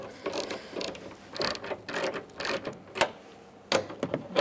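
Ratchet with an 11 mm socket tightening mirror bolts on a Ford E-350 Super Duty, a series of quick close clicking bursts in uneven strokes, clear and without talk.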